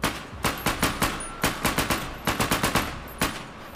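Modded video game gunfire, fired semi-automatic, comes as loud, sharp shots in quick irregular bursts with brief pauses between the volleys. No voices are heard.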